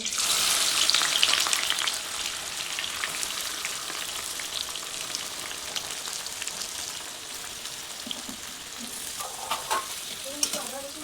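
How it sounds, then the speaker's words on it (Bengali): Onions fry in hot oil in a kadai until reddish, for chicken biryani. A dense, continuous sizzle sounds like rain, with stirring scrapes and a few sharper pops near the end. "পেঁয়াজগুলো লাল লাল করে ভেজে নেব"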